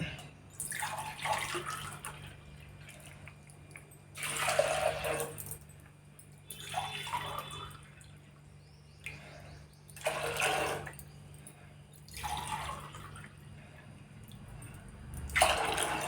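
Water splashes and pours into a pot of washed chana dal in several separate bursts, each lasting a second or two with quieter gaps between, close by, over a low steady hum.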